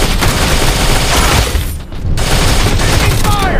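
Sustained gunfire from the mobile shooter game Modern Strike Online, played on a smartphone, sounds as dense, loud bursts that fill the clip. A brief dip comes near the middle, and a faint voice briefly sits under the shots.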